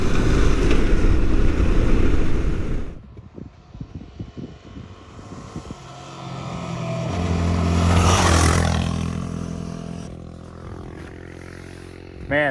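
A KTM 1090 motorcycle rides off-road on dusty dirt trails in remote Central Oregon. A loud engine roar and wind rush at the start give way to a quieter stretch, then a rising and fading pass of engine sound.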